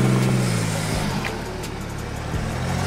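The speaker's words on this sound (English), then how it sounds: "BMW X5." BMW X5 SUV engine running with a steady low hum and slight rises in pitch, close and continuous with no talk.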